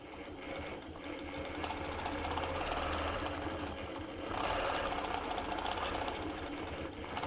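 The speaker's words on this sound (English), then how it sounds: "Now we're going to go ahead and quilt that out." Sewing machine quilting a fabric border, a steady fast mechanical stitching hum running continuously at moderate volume with no talk.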